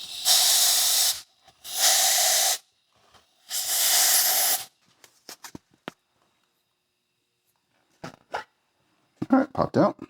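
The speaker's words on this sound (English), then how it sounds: "I'm going to use some compressed air" Compressed air blasts loosen a plaster mold from a silicone mold in three strong, close hissing bursts, followed by scattered clicks, knocks and handling noises.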